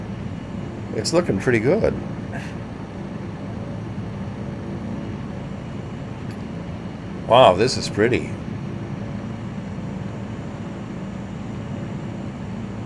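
Steady low airplane engine drone from a VR flight simulator game hums beneath the whole stretch, constant and moderately loud, while a person talks briefly over it twice.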